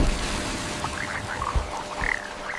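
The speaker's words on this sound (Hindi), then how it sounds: "मेंढक, हर कोने से मेंढक निकलना शुरू हुए।" Frogs croak in a repeated, overlapping chorus of short throaty calls against a steady low background, moderately loud and without speech.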